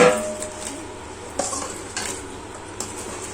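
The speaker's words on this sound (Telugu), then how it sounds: "సుజాతనే అట్లా ఇది తొక్కు కలుపుతుంది" Sirka thokku, a Telangana vinegar pickle, mixed by hand in a vessel: soft stirring and squishing with a few sharp clinks against the dish, close and without talk.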